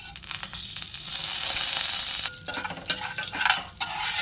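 Tempering spices for a fenugreek-leaf and onion pulusu hitting hot oil, a loud burst of crackling sizzle that peaks early, then settles into uneven popping with scraping stir strokes against the pan.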